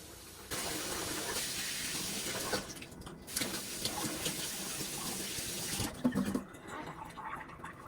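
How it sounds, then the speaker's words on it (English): Hands being washed under a running kitchen tap while making German gingerbread (Pfeffernüsse); a steady close water rush starts abruptly, changes slightly as the hands move through the stream, and then stops. "I'm going to just quickly wash my hands."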